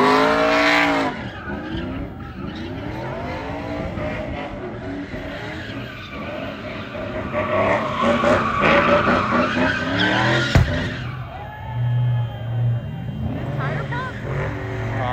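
Car skidding at a street sideshow on Polaris and Twain in Las Vegas, long tire squeal with engine revving in a crowd, then a sharp pop as a tire bursts near the end; spectators talk and shout throughout.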